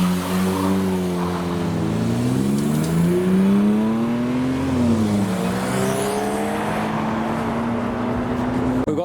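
A modified Ford Fiesta ST pulls away from a car show, its engine note rising and falling through a revving pass, steady and fairly close with no talk.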